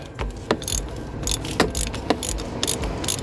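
A 27mm socket on a ratchet undoing the oil filter housing lid of an LTI TX4 Euro6 London black cab, heard as a series of close metallic clicks and clacks at an uneven pace over a low background rumble.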